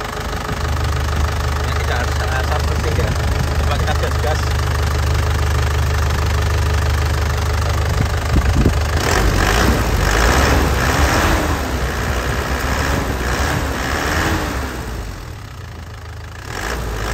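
The engine of a black 2010 LS turbo car, idling loudly and close, then revved several times in short bursts before settling.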